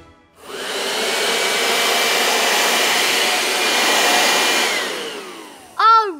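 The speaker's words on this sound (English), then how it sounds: "The first noise is a vacuum cleaner." A vacuum cleaner runs as a loud, steady whine that starts abruptly, holds for about five seconds, then cuts off, followed by a brief high warbling tone at the end.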